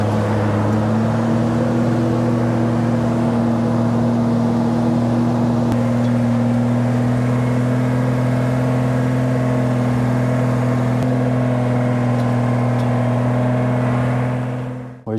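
A 1980 Toyota FJ40 Land Cruiser with newly replaced clutch master and slave cylinders climbs a hill on a test drive, its engine droning in a steady low hum from inside the cab that rises a little in pitch before cutting off.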